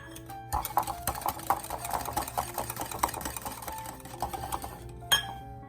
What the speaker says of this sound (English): I broke in 1 egg and added 2 tablespoons of sugar. Whisked it well